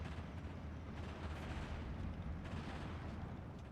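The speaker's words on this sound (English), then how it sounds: "SU-152 throwing down a shot there" Heavy SU-152 self-propelled gun fire in a Steel Division 2 battle, a dense rumbling wash of booming artillery with steady low-end roar and no clear gaps, moderately loud throughout.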